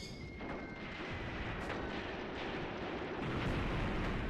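Mortar fire in the wartime tactics game Graviteam Tactics: Mius Front, a dense barrage of booming explosions and crackling blasts rolling continuously, loud and close, with no gaps between impacts.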